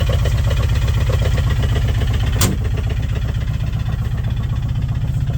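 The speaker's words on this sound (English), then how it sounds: "you can hear that nice hum of the engine starting up." A side-by-side utility vehicle's engine runs steadily after a cold-weather start, a loud, even low rumble with rapid firing pulses and a brief sharp click partway through, no talking.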